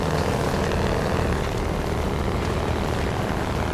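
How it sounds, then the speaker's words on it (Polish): Big Ben truck engine in SnowRunner, heard as a steady, loud, droning rumble that holds continuously with no talk over it. "Dźwięk ten Big Ben ma naprawdę świetny"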